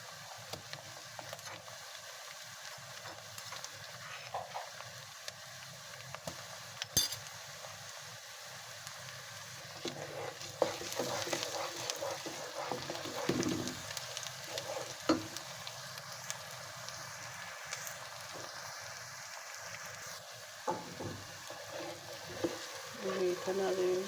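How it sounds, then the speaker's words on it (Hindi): Garlic ginger paste frying in a pan with onions and garam masala, sizzling steadily at moderate volume while a utensil stirs with scraping, clattering sounds throughout. "हमारा लहसुन अदरक भी सौते हो गया है, और गरम मसाला भी फ्राई हो गया है हमारा अच्छे से।"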